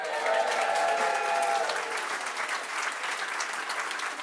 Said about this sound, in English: So can we all give him a big cheer?